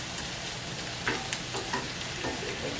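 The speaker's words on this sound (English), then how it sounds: "Alright, so we got those sauteing over here on the side." Chopped onions sauteing in a pan beside a slow-cooker Cajun bean soup, a continuous close sizzle broken by a few light scrapes and taps of stirring, no voices.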